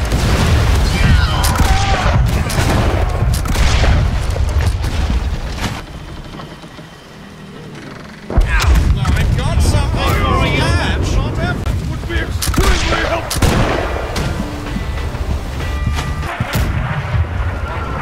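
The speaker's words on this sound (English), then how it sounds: "Somebody's on our ship shooting me in the face." Gunfire and heavy booming blasts on a ship in the naval combat game Blackwake, loud and close, coming in dense bursts with a brief lull, under rumbling wind-like noise and occasional voices.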